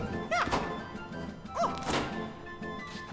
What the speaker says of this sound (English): I destroyed the box there that would just allow me to get those two gems